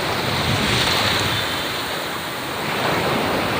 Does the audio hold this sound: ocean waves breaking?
yes